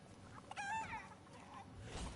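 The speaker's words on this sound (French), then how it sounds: "attraper une poule" A single short, faint chicken cluck sounds in the Fortnite video game, followed by quiet in-game ambience.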